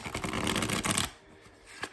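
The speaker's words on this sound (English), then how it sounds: "Let's give it one more good shuffle and then we'll get started on your energy." A deck of cards riffles in a quick, crisp burst of flicking for about a second, close and clear, then settles into near silence with a faint final tap.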